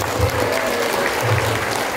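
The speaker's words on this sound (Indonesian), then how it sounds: "beri tepuk tangan dulu buat Ciboy" An audience at a children's storytelling session claps for a young performer named Ciboy, a steady, dense wash of applause at moderate loudness, with faint murmuring voices underneath.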